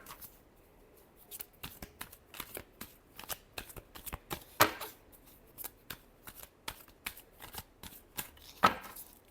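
Tarot cards are shuffled near and fairly quietly, giving quick crisp riffling flicks in an uneven rhythm with a couple of sharper snaps.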